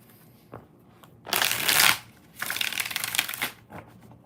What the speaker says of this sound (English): We're going to use good old trusty dusty Rider-Waite. 8 shuffles.